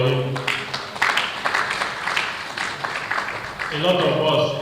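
An audience at a safety-management stakeholders' event gives a round of applause, a dense, steady wash of clapping lasting a few seconds, with speech rising over it near the end.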